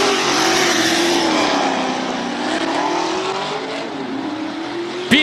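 A BMW Z4 fitted with an LS V8 engine races up a hill climb course in Cape Town. The V8 roars loud and close, its engine note falling and then rising as it shifts through gears, with a sharp burst at the end.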